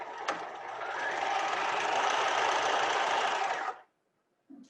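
A sewing machine runs a regular standard seam through fabric placed right sides together, a steady close whir of stitching that holds for several seconds, then stops abruptly, followed by a brief quiet and a faint bump.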